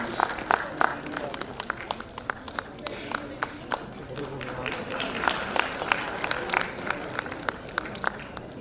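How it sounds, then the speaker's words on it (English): A conference audience offers a thin, scattered round of applause, with individual claps popping irregularly at a moderate distance over a quiet room murmur rather than building into a full ovation. "Round of applause, please"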